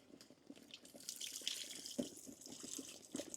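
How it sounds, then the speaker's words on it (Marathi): Tamarind water poured into a simmering fish curry gravy, a steady splashing liquid stream in a pan that swells and settles over a few seconds with no voices. "आपण आता त्यामध्ये चिंचेचं पाणी घालून घेऊ।"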